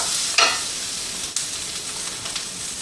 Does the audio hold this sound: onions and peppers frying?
yes